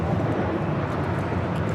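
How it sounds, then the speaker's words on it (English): JetBlue Airways A320 in iHeart New York livery taking off from LAX, a continuous broad jet roar heard steadily, no talking. "This is JetBlue Airways, flight 1463, taking off"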